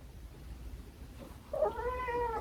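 A pet cat gives a single drawn-out meow, close and clear, rising out of quiet room tone partway through and lasting to the end.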